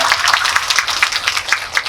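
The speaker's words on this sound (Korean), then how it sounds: "박수 부탁드립니다" An audience claps steadily in a Megabox cinema hall during a film talk event for the movie Confidential Assignment 2, a dense even wash of many hands at moderate loudness with no voices on top.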